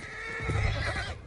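A horse whinnies near a stable in the Red Dead Redemption 2 game, one drawn-out close neigh rising and fading over about a second against a soft background.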